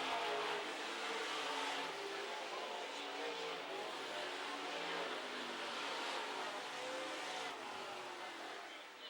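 Midwest Modified race cars roar around the Amsoil Speedway dirt oval during a heat race, a continuous loud engine drone as the pack runs through the turns, with an announcer's voice faintly under the din.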